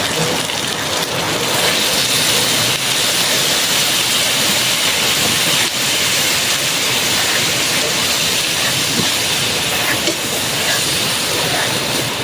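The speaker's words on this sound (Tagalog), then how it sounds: "Lakas na ulan" Heavy rain pours steadily and loudly throughout, a dense continuous hiss during outdoor cooking in the rainy season.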